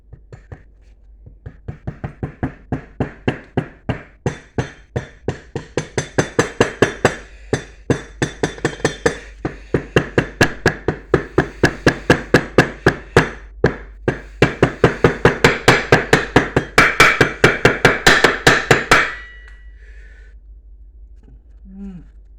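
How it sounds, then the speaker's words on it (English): Long series of rapid, evenly spaced metallic hammer taps, close and bright, as a sump gasket is tapped down; continues for many seconds before stopping abruptly. "I'll just use a hammer and tap it down."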